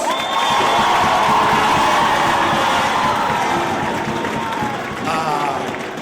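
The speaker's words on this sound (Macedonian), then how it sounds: "Еден аплауз за општина Карпош!" A crowd at a basketball all-star game in Karpoš applauds and cheers, a dense sustained wash of clapping and shouting voices, loud and continuous, fading a little near the end.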